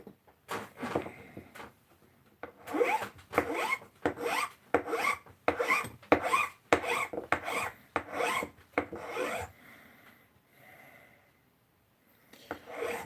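Rhythmic rasping of a hand file working a wooden knife handle during fine fitting, a steady run of close, scraping strokes with short pauses between them.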